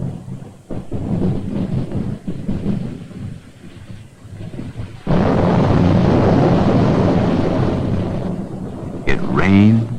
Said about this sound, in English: And suddenly the rain that the thunder has been talking about comes down.